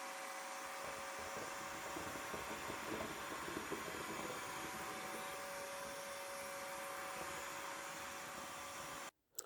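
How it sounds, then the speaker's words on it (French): A wet and dry washing vacuum cleaner sucks liquid off a floor with a steady, fairly quiet whooshing drone that cuts off abruptly near the end. "Je vais mettre ça au sol et venir aspirer."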